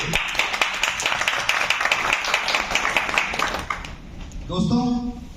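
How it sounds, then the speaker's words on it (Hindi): An audience at a gathering gives loud, rapid applause for nearly four seconds before it fades out, and a speaker's voice follows. "जोरदार तालियां होनी चाहिए।"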